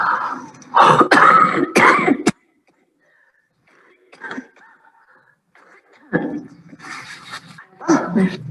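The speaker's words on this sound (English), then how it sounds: "your relaxed breaths and then onto your huff." Forceful huffing exhalations from the active cycle of breathing technique come in bursts, a loud pair early on, then a pause and more breathy huffs and throaty rasps later, up close.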